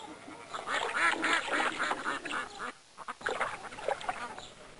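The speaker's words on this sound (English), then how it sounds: "Duck." A cartoon duck quacks repeatedly in the Busy World of Richard Scarry reading video game, a quick run of nasal quacks with a short pause before a few more, fairly quiet and alone.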